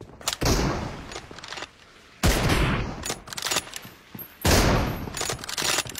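Three loud bursts of rapid automatic gunfire from the battle game BGMI, each lasting about a second and a half, separated by quieter gaps with faint distant shots.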